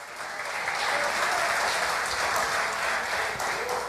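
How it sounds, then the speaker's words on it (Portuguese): Church congregation applauding in a steady, dense wash of clapping that holds at a loud level throughout, with no talk over it. "Dê um aplauso a Jesus."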